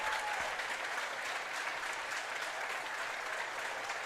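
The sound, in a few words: crowd applauding at a high school basketball game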